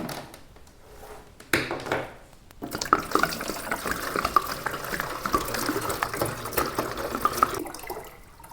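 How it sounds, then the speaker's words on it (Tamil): Water pours into an aquarium tank being set up, a short splash first and then a sustained, close, bubbling stream that runs steadily for several seconds with no talk. "நான் தண்ணி ஊற்றிட்டேன்."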